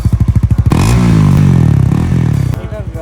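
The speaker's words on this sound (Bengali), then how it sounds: "ওকে, সো এখন বাইকটা স্টার্ট করে আমি একটু দেখাচ্ছি।" A black Thailand-version Honda CBR 150R motorcycle fires up: slow cranking pulses first, then the single-cylinder engine catches and revs loudly near the microphone before settling back to a pulsing idle.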